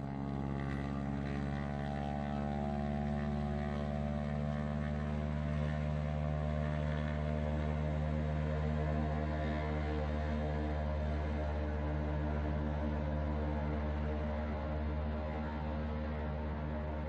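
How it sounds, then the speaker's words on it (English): A float plane departs near a provincial park along a northern Ontario lakeshore, its propeller engine holding a steady, distant drone with layered harmonic tones throughout. "a fly-in and sightseeing service where a float plane takes off right here"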